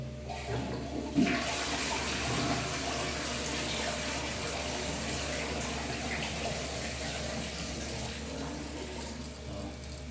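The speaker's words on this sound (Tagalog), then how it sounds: "Ngayon, pa-flush natin." A clogged toilet flushes with a loud rush of water that continues as a steady swirling drain and refill, close by with no talking.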